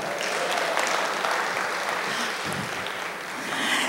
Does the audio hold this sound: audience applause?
yes